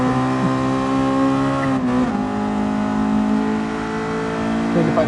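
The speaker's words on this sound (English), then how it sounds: "I could hear your car." A Honda Civic Type R engine in a racing video game hums and revs steadily with a strong tonal whine, close and loud, shifting pitch briefly midway with no talk over it.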